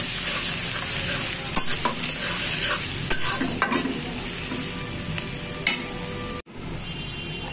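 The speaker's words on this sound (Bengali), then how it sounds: "এখন দিয়ে দিব দুইটা সাদা এলাচ দুই টুকরা দারচিনি আর একটা তেজপাতা" Two green cardamom pods, two cinnamon pieces and a bay leaf sizzle in hot oil for a cabbage and shrimp fry, giving a bright, continuous crackle with spoon stirring and a brief break near the end.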